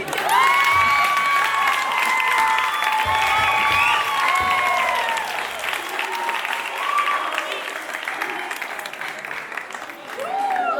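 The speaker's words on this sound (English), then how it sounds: "And now you can clap." An audience at a school international day show breaks into sustained applause and cheering, loud and continuous, with children's shouts mixed in.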